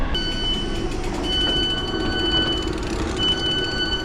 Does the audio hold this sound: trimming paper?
no